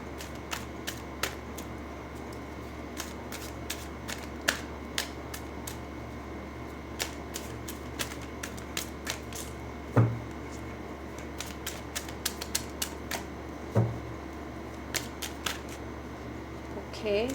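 Tarot cards are shuffled in a quick, irregular patter of soft snaps and flicks, with a couple of louder knocks over a low background hum.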